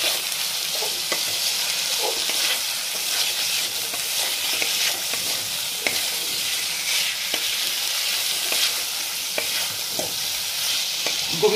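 Fried fish and potatoes stirred into a sizzling spiced curry with Gobindobhog rice, a steady hiss of frying with repeated spatula scrapes and taps against the pan.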